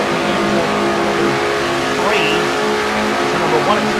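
Race car engines drone steadily at high revs during a simulated stock car race, with one car near 9,100 RPM. The harmonic whine stays loud and continuous while a commentator talks over it.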